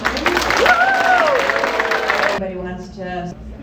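A nursing pinning ceremony audience claps and cheers for graduating students, steady crowd applause with a raised voice over it, cutting off abruptly into a quieter room with a person speaking.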